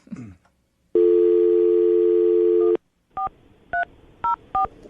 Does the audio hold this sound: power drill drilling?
no